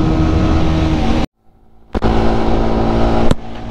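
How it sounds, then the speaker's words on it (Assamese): A motorcycle fitted with an aftermarket exhaust silencer roars loudly and steadily at close range, cutting out abruptly for a moment before the throaty engine noise resumes. "বাইকত একজষ্ট লগাই থোৱা আছে ন, মাতটো একদম মানে গুলি দিছে"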